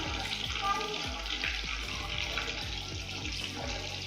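Pieces of fish fry in hot oil for a homemade winter fish curry, hissing and sizzling steadily, with repeated soft scraping and stirring knocks in the pan.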